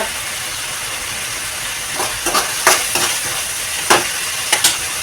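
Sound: stirring and mixing food in a pan

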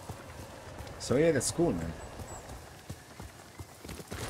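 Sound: horse hooves galloping in the video game Ghost of Tsushima

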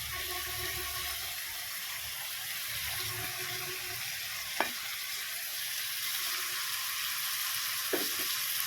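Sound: stir-frying boiled chow mein noodles with chicken in a pan

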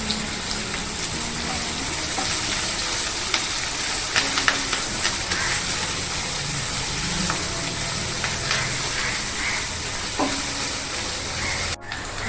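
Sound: curry leaves sizzling in hot oil

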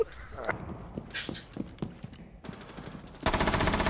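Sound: gunfire in a video game shooter

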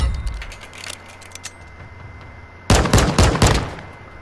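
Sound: gunshots in a video game

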